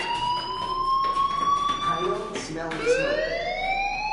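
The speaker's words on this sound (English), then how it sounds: "do you hear that fire alarm? That means you should be outside." A fire alarm in the video game Life Is Strange wails with repeated rising electronic tones, loud and piercing, while a voice talks over it.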